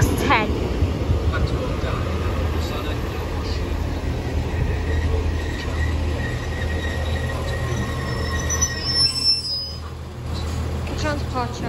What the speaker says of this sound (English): departing now is the 12:23 transport for Wales service from Pontypridd.